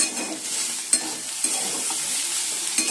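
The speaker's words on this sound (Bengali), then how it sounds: "আলু ভাজা বসিয়ে দিয়েছি" Potatoes frying in a pan, a steady close sizzle with a few light clicks of stirring, no voices.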